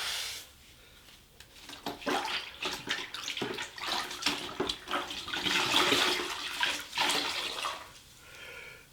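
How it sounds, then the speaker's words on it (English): Water running to rinse grout cleaner off tile grout, a continuous splashing gush with fluctuating intensity that tapers off near the end. "Let's rinse some of this stuff off."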